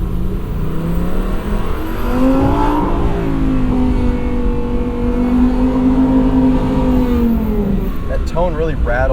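2022 Lamborghini Huracan engine heard from inside, revving up through a rising then sustained tonal drone as it accelerates, with a brief shift near the end; a voice speaks over it at times.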